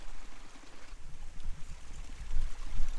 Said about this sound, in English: I'm gonna cross this creek